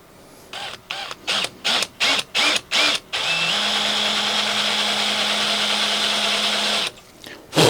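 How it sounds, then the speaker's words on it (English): A power drill with a reverse drill bit, boring into a broken muffler screw on a Homelite chainsaw, fires in six short bursts, then runs steadily for several seconds before stopping, with one more brief whir. "this is a reverse drill bit"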